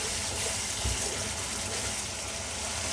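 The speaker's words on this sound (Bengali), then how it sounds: "এর ভিতরে দিব আমি সামান্য পানি, খুবই সামান্য, জাস্ট শুধু মশলাটা কষানোর জন্য।" A small splash of water is poured into spice masala for an egg curry with eggs fried in turmeric, giving a soft, steady gushing pour that lasts a few seconds with no voices.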